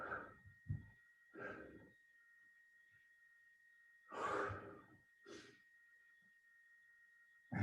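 Heavy breathing during a bootcamp workout, several loud breathy exhalations and gasps in uneven bursts close to the mic, separated by quiet pauses with a faint steady hum behind.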